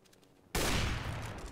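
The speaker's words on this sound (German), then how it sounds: "Einfach mal einen random Schuss da rein." Gunfire in the video game CS:GO: after a quiet half-second, a single loud, sharp shot bursts in and leaves a dense ringing tail that fades slowly, with no talk.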